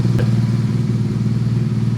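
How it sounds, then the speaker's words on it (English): A BMW R nineT motorcycle engine idles steadily while warming to operating temperature, giving a loud, continuous low throb with even firing pulses and no other sounds. "we're going to do is just run the bike all the way up to operating temperature"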